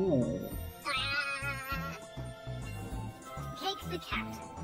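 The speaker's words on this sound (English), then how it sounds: "The cat." A cartoon cat in the animated series Fionna and Cake meows twice, once near the start and again toward the end, against rhythmic background music with a thumping beat.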